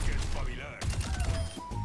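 Secondary-fire shots and game effects from Overwatch 2 ring out in quick bursts, dense and loud, layered with clanking mechanical sounds and other in-game noise.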